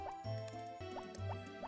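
Chiptune-style watering-can splashes while watering crops in the farming game Harvest Moon: Back to Nature, with four short descending drip-like blips over steady background game music.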